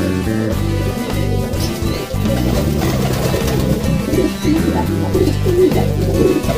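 Pigeons or doves coo loudly and continuously, their calls set against a dense, busy backdrop of other noise, with no pause across the stretch.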